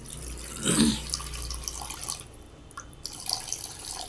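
Water pours into sifted wheat flour mixed with ghee and salt for chapati dough: a short splashing gush near the start that fades into a faint trickle, with no talk over it.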